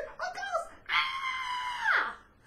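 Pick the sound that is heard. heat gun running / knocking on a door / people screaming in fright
people screaming in fright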